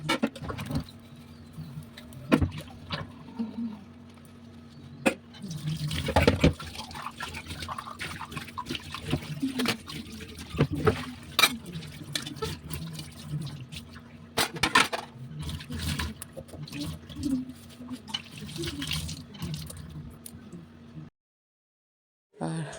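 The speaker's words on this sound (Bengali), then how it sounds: "তো এই যে 2-1টা বাসন ছিল, ওগুলো আবার এখন ধুয়ে মেজে টেজে রাখবো।" Dishes are washed by hand under running water in a home kitchen. Water trickles steadily close by while utensils clatter and knock now and then, with no one speaking.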